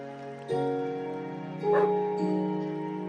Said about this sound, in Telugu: అక్కడ కుక్క అరుస్తుంది